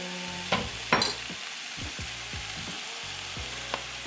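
Cabbage and shiitake mushrooms fry in sesame oil in a pan for Chinese spring rolls, a steady close sizzle with a few louder stirring clatters and scrapes over it.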